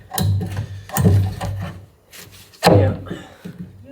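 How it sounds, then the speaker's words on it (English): A hand plane beveling wood inside a fiberglass boat hull, three distinct rasping strokes at uneven intervals, close and fairly loud, with quiet pauses between. "they use the plane here, get a little bevel on it, because there is fiberglass and it's round shape"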